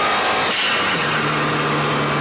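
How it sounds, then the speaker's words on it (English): A 400-whp turbocharged Subaru WRX with a turbo inlet and Mishimoto intake gives off a loud, close turbo whoosh and exhaust roar that rises into a steady whine with an engine drone beneath it. "that is the perfect formula for some of the best turbo noises you will ever hear"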